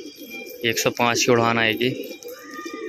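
Pigeons cooing close by in a loft where new birds are let out to fly, low soft coos running under someone talking throughout.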